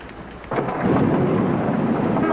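Thunderstorm with rain heard from inside a car, steady rain hiss that swells into a deep rolling rumble of thunder about half a second in and keeps booming under the downpour.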